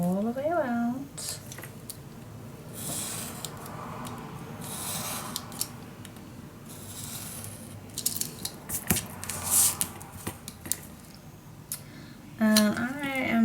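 Scissors cutting a small paper piece for a Stamperia Grand Hotel mini album, close crisp snips in an irregular run, with someone talking over the start and end.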